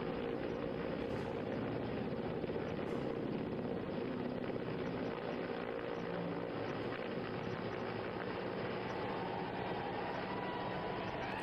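A steady, loud mechanical roar with a low rumbling drone continues without a break from an Indian Army helicopter hovering close overhead during a rope rescue.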